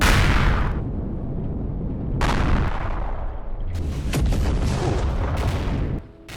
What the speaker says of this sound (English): I'll start lobbing shots into him and hopefully I kill him.